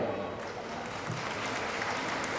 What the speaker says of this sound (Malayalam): കൈയടിക്കാൻ പറഞ്ഞപ്പോൾ കടുക് വറക്കണ സൗണ്ടേ ഉള്ളൂ